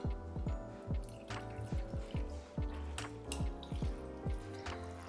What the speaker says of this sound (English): I'm gonna go ahead and pour the sangria in